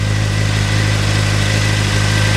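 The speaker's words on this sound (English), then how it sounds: "we'll rev it up a little bit to like 4 grand" Suzuki GSX-R600 motorcycle engine running close by, a loud, steady mid-pitched drone with a constant hum and no change in revs over the stretch, no voices.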